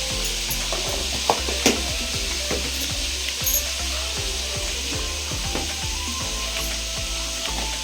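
Masala fries in oil in a pan, hissing steadily and close while a spoon scrapes and stirs it in a regular rhythm of soft knocks.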